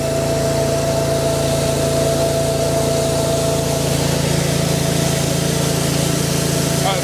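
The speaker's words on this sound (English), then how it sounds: "Get the brush going." A Westermann Cleanmeleon CM2 weed brush machine runs steadily at high revs, its engine drone and whirring brush holding constant and loud throughout as it scrubs old dried weeds and mud in a corner.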